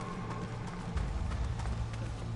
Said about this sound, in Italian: No, questo cavallo non c'era.